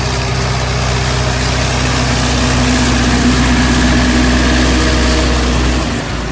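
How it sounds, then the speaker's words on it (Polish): Tractor engine running steadily at a close, loud idle with a deep low rumble and a constant hum, during autumn sowing of awned wheat on a dry field; no talk over it. "posłuchajcie se dźwięku silnika"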